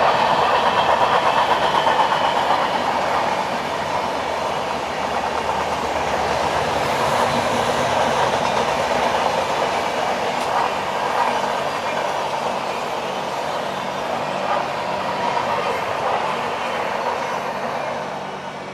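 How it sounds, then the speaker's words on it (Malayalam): The Amritsar–Indore Express rolling past at a station, a steady loud rumble and rhythmic clatter of wheels over rail joints that holds throughout and eases slightly at the end. "അമൃത്സർ ഇൻഡോർ എക്സ്പ്രസ് ആണത്"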